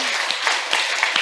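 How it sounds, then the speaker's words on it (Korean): A church congregation claps for the newly baptised during a Sunday service musical, a dense wash of many hands that stays steady and fairly close, with no voices over it. "오늘 세례 받으신 분께 박수 한번 부탁해요"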